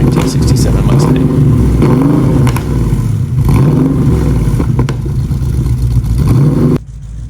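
A 1967 Ford Mustang engine revving loudly through its exhaust, close and rising and falling in repeated surges over a steady rumble, with talk over it before cutting off abruptly near the end.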